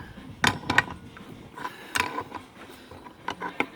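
A Harbor Freight pulley puller tool being turned on a second attempt, giving a few short, sharp mechanical clicks and ratcheting clunks spaced irregularly, close by and fairly loud with quiet gaps between.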